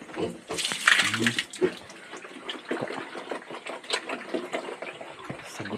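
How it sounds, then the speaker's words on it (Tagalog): Water is poured into a container for pigs or other farm animals to drink, a continuous splashing and trickling close by, with animal snorts and movement and a person talking faintly in the background. "Ato ning dugangan sa tubig para ilang inom-inomon."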